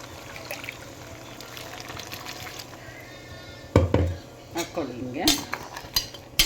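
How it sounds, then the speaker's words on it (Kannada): Water poured into a mixer grinder jar in a home kitchen while making a mutton head-and-trotters curry. A few metal clanks from the jar come first, then a short, close pour with rising gurgles. "ಸ್ವಲ್ಪ ಮಿಕ್ಸಿ ಜಾರ್ ಒಳಗೆ ನೀರನ್ನ ಹಾಕ್ಬಿಟ್ಟು"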